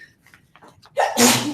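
A single sharp sneeze bursts out at the end of a committee meeting, loud and close after some faint background voices.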